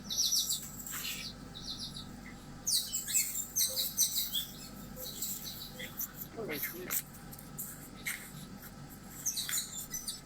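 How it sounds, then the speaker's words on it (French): Birds chirp in Martinique with scattered, bright tweets and short calls against a quiet background, some bursts clustered and others isolated, fairly near and moderately soft. "Ah, les oiseaux, arrêtez, hein."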